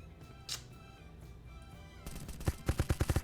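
A burst of rapid gunfire in the Wraith video game starts partway through, with sharp repeated shots after a quieter stretch of game ambience.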